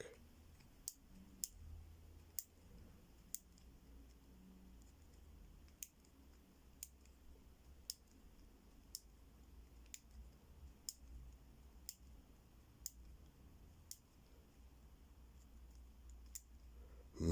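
The dial of a Zhege FortLocks gym combination padlock is turned and gives a series of crisp, faint clicks. They come at a fairly regular pace, roughly one per second, against a quiet background.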